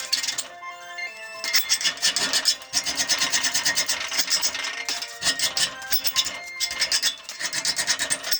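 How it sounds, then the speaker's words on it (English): A metal file scrapes back and forth across fabricated steel edges to deburr them, with repeated rasping strokes in an uneven rhythm, close and fairly loud, and no talking. "I'm just going to go around and deburr everything with a file, make everything smooth"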